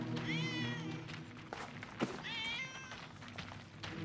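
A cat meows twice in the 11-11 Memories Retold video game, two drawn-out rising-falling cries about two seconds apart over a low ambient hum and faint background noise.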